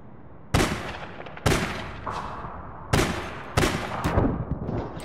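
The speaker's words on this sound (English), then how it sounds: "Yeah, I got sniped again." Gunfire in the shooter APB Reloaded, four loud, sharp shots spaced unevenly about a second apart, each cracking hard and then trailing off, close and alone without talk.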